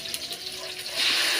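Water pours into a cooking pot over beef for an outdoor rustic dish, a steady gushing splash that swells louder toward the end.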